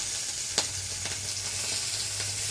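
Ginger paste hits hot oil in a pan and sets off a steady broadband sizzle, with a sharp spit or crackle near the start and a few fainter pops after it, no voices.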